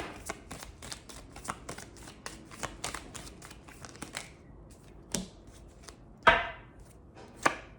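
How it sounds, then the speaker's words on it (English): Loud crinkly rustling of a bag in rapid bursts, then a few sharper crackles toward the end, close to the listener. "that was a loud bag"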